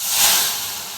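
Hot oil and ghee with mustard seeds and asafoetida hiss in a sharp burst of sizzling while tempering Tamil Nadu-style kalyana rasam, swelling briefly then easing over about a second.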